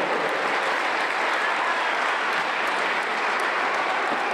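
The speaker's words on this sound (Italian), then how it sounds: "Un applauso." Steady, dense applause from an awards-night audience at an Italian prize ceremony, continuous and even throughout with no voices over it.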